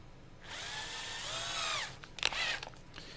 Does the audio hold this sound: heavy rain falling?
no